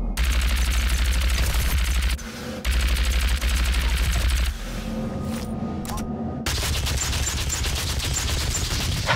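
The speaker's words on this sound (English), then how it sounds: "I love the micro missiles." Micro missiles firing in Doom, rapid bursts of launches and blasts in loud, sustained volleys broken by short pauses, with heavy low rumble beneath.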